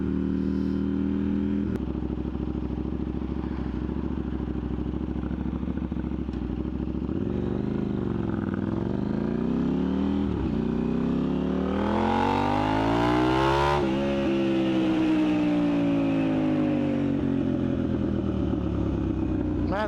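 A motorcycle with anti-wheelie mode engaged, its engine droning steadily and then rising and falling through gear changes as it accelerates, loud and close with wind noise throughout.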